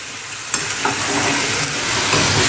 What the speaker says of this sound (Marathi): मग आपण या भाजीला चांगलं मिक्स करून घेऊया